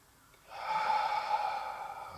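A single audible inhale through the nose during a gentle Pilates exercise, a close, airy breath that rises quickly and holds steady for over a second.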